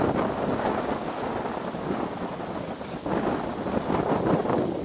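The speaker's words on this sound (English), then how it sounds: "And the wind picks up, of course." Strong Kansas wind gusting outdoors, a steady loud roar buffeting the microphone with surging gusts throughout.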